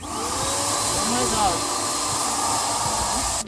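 A spray painting tool blows air, a loud steady whooshing roar close by that runs without a break and cuts off abruptly at the end.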